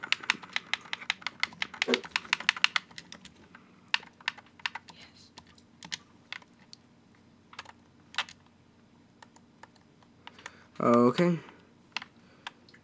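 Computer keyboard typing during an Ark: Survival Evolved game session, a quick burst of clicky keystrokes followed by scattered single key taps, with a short voice sound near the end.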